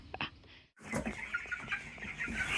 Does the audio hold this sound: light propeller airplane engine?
no